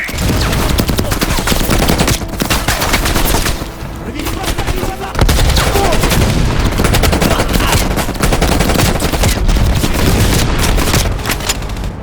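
Loud, dense machine gun fire rattles almost continuously in Call of Duty Black Ops Cold War, with overlapping gunshots and booms, a brief lull near the middle, and battle chatter faintly mixed in.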